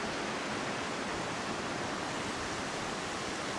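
Waves break on an Australian beach in a steady, dense wash of surf and foam, loud and close throughout, with no voices over it.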